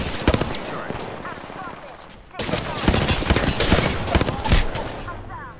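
Rapid bursts of automatic gunfire in the battle royale game Apex Legends, loud and close, with a brief lull before a denser, sustained barrage of overlapping shots.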